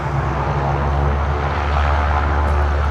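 A Saab 340 turboprop airliner takes off, giving a steady, loud, close engine and propeller drone with a strong low rumble that holds even throughout, with no voices over it.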